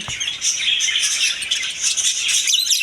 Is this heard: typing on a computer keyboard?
no